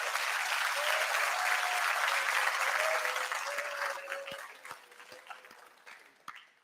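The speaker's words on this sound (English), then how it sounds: "Let's give them a big round of applause." An audience at a national ICT security competition grand final gives the teams a round of applause, a full, steady wash of clapping with a sustained tone underneath that tapers off into a few scattered, isolated claps at the end.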